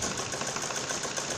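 Sewing machine stitching along a marked curve on a lined blouse neckline, a steady fast mechanical whir with rapid needle rhythm running continuously and fairly close.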